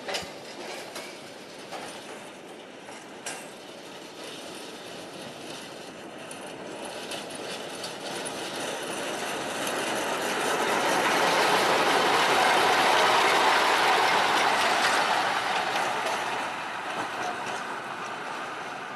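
Four locomotives pull out together in a row at the PG Semboro sugar mill, bound for the plantation, a rumbling rail sound that swells to a loud peak in the middle and fades, with faint clicks early on.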